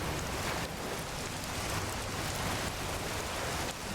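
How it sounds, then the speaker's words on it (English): Rain pouring in a forest, a dense, even hiss of drops on foliage and ground, steady and fairly loud throughout with no voices. "Where are we going to rest in this rain?"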